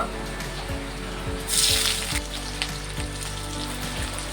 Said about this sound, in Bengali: তেলটা গরম হয়ে গেছে। আমি পেঁয়াজ দিয়ে দেব।